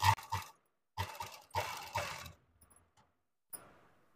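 A domestic sewing machine stitches bias binding around the curved neckline of a suit in short stop-start bursts, quiet and close, with pauses between runs and a small click near the end.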